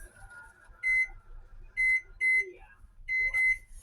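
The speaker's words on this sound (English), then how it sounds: "Let me set the timer." Several short, bright electronic beeps from a kitchen timer being set, coming in separate bursts and pairs at close range over faint low background hum.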